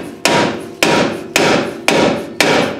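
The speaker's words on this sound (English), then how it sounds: "Let's see if my little hammer trick works on this side" A small hammer strikes metal on a barn-find Ford Mustang, five sharp, loud blows spaced evenly about half a second apart, each ringing briefly before the next.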